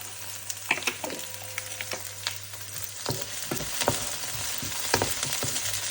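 Sausage and onions fry in a pan for caldereta, giving a steady loud sizzle broken by repeated scraping and stirring clicks, with no talking.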